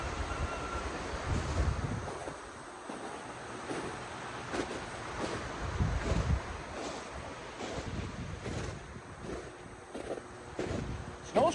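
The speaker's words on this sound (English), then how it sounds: "Snow's crunching." Footsteps crunch through snow outdoors near a waterfall, a regular walking rhythm of close, crisp steps over a constant bed of wind noise.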